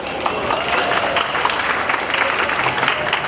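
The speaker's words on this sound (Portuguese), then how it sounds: "Recebam com uma salva de palmas para conduzir este painel, deputado Dirceu Tinkater" A crowd applauds at a panel on youth and climate change at a legislative assembly stand, welcoming the deputy who moderates; loud, continuous clapping with some crowd murmur mixed in.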